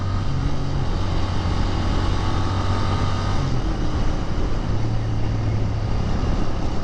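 A motorcycle engine drones steadily in second gear during a test ride, a continuous low hum with wind rush that stays close and even for the whole stretch.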